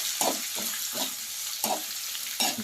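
Sliced onions fry in a hot pan with a continuous hiss, broken by a few soft scraping stirs spaced about every half second.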